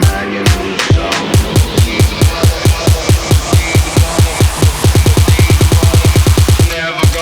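Hybrid trap lead drop built from a modified Serum synth preset, loud and dense, with punchy rhythmic hits and a bright, buzzy lead pulsing over heavy low end, the notes tightening into a rapid roll near the end.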